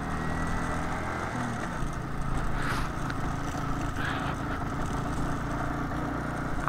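A motorbike engine labours in first gear on a snow-covered mountain road near Khardung La above Leh, a steady low drone running the whole time with wind noise and no talking.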